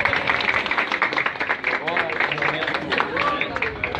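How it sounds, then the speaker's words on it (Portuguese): People applaud as a dog is reunited with its homeless owner after his hospital discharge, scattered outdoor clapping with a murmur of voices and speech over it. "As pessoas aplaudem, né?"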